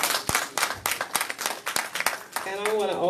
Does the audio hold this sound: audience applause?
yes